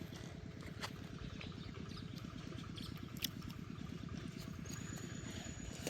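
A farm tractor idles steadily in a rice field during ploughing and sowing, its low engine throb pulsing evenly and close by without a break.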